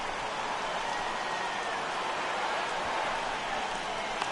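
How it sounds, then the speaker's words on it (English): Heavy rain falling steadily in a ballpark in the baseball video game MLB The Show 18, a continuous broadband hiss that stays even and fairly loud throughout with no voices. "You just sensed it was coming with the heaviness of the rain"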